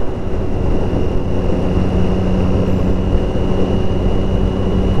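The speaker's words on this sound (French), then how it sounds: "il y a une bonne reprise aussi, hein, avec le bon bruit du 3 cylindres, là, un gros feulement" A Triumph Street Triple 675 RX three-cylinder motorcycle engine pulls hard under acceleration, a steady, loud, dense roar mixed with rushing wind that holds throughout without pause.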